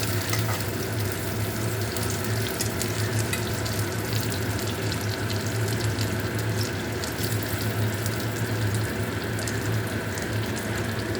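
Steady, dense sizzle of potatoes and eggplant frying in oil in a wok with nigella seeds, continuous and close with a low hum underneath, no voices.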